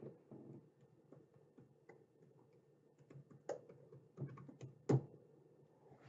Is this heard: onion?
no